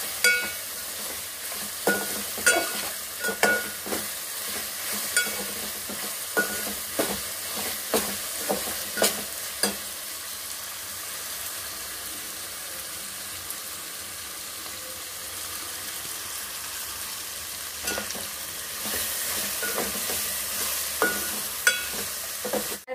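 Chopped tomatoes for tomato rice fry in a pan with a steady, soft sizzle. A spoon scrapes and clacks in a rhythmic run of stirring strokes early on, then the sizzle carries on mostly alone, with a few later stirs.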